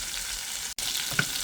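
Tengra fish fry in a pan with a continuous close sizzle and hiss, broken by a brief gap and a small pop.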